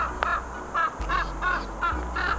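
A crow caws repeatedly outdoors, about five harsh calls in a steady rhythm, fairly close and clear over a low background rumble.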